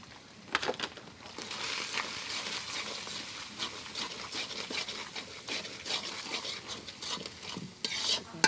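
Meat seasoned with cumin and spices stirred and fried in a pan, with steady broadband sizzling, repeated scraping and clinking of a utensil against the pan, and sharp metallic knocks near the end; no talk.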